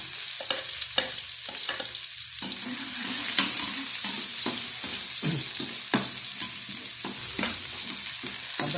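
Garlic fries in a pan, a close, steady sizzling hiss that swells after a few seconds, punctuated by irregular scrapes and knocks of stirring, with no voices.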